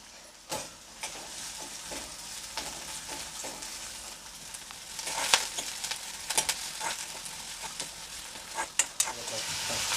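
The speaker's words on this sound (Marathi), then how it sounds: "आता त्याच्यामध्ये मी एक कांदा कापून घेतला होता तो टाकून घेते आणि लगेचच कढीपत्तासुद्धा टाकून घेते" Chopped onion and curry leaves sizzle in hot oil in a pan, a steady hiss with sporadic louder pops and stirring scrapes that grow busier in the second half; no one speaks.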